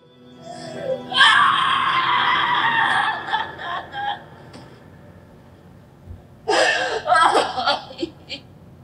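A woman's scream from a film soundtrack, backed by strings including a viola, rises as a long, loud cry, drops into near silence, then returns in a second harsh burst.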